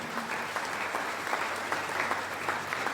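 A church congregation breaks into sustained applause in acclaim of Jesus, a dense wash of steady clapping with no talk over it from start to finish.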